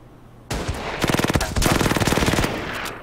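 Rapid machine-gun bursts firing on a tank in the Order of Battle: Winter War strategy game, loud close rattling volleys of evenly spaced shots lasting about two and a half seconds.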